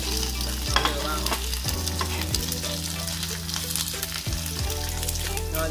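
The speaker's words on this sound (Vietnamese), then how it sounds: "các bạn chiên đều tay ha, chúng ta sẽ đảo đều." Dried squid stirred while frying in hot oil in a home kitchen, with a dense, steady sizzle, close and loud, broken by occasional scraping stirs.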